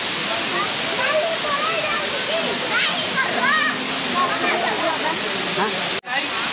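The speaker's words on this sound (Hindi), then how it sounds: "झरना" Durgapadu waterfall in Rayagada, a loud, close, continuous rushing roar of falling water with birds chirping through it and people's voices faint beneath.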